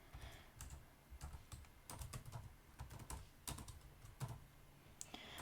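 Soft, close keyboard typing in irregular runs of clicks and taps, quiet with short gaps between bursts.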